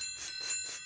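Wind chimes at a neighbor's house ring in bright metallic strikes, three or four shimmering bursts in quick succession that overlap and sustain, fairly close and with no voices.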